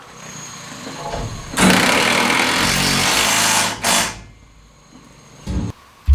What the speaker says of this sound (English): Putting in the 1/4 inch lag bolt, 2 inches long.